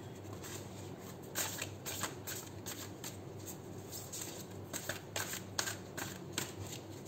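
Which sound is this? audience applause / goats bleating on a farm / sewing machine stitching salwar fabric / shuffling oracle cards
shuffling oracle cards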